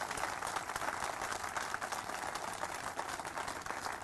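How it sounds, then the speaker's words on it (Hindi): An audience applauds at an official honoring ceremony, a steady wash of many hands clapping together, distant and fairly faint, continuing without a break. "फिर तो जोर से तालियां बजा दो"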